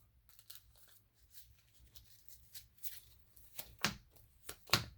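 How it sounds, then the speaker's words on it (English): Sleeved Transformers trading cards being shuffled by hand, a run of soft papery riffles and flicks that grows louder toward the end, close and alone with no talking. "once you get your cards all mixed up and shuffled"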